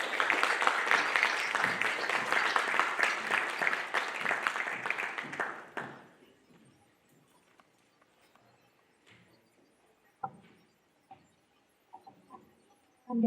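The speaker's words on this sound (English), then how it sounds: "please give a round of applause for Dr. Mary A.Y." A faculty audience gives dense applause for a speaker, loud and close for about six seconds, then it quickly dies away to scattered faint claps, small knocks and rustling in a quiet room.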